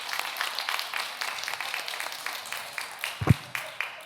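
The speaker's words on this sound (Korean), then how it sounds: "우리 세 사람 우리 박수로 하나님께 영광 돌리고 칭찬." A church congregation claps steadily through a Sunday afternoon service, a continuous moderate patter of many hands with a short low thump near the end and faint voices mixed in.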